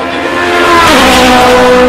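A Honda race car roars past close by on the straight, its loud engine note sweeping downward in pitch as it goes by at speed.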